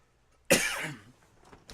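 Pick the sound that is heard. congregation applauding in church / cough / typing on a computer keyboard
cough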